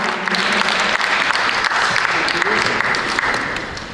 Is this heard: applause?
yes